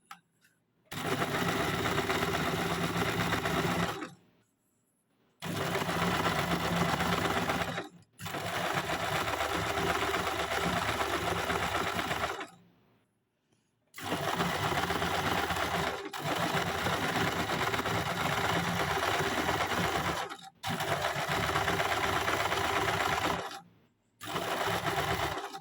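A sewing machine fitted with a roller foot stitches fabric in several bursts of steady, close whirring and clatter, broken by short silent pauses between runs, with no talking.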